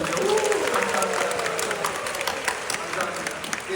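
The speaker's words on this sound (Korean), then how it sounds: "여러분들 축하하고 축복하면서 박수 한번 주죠." Congregation applauding in a church during a summer retreat closing service, dense steady clapping filling the room from start to finish, with voices mixed into the crowd noise.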